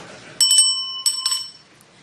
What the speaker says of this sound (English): I'll ring the bell once